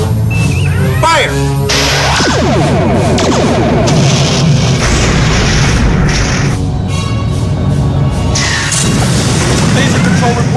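Science-fiction starship torpedoes fire in a dense, loud barrage of booming blasts and crashing bursts, layered with whooshing energy sweeps and a constant rumble across the whole stretch, with a voice briefly mixed in.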